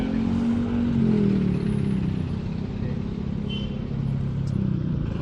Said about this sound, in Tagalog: Talagang traffic na rito, mga kalipad.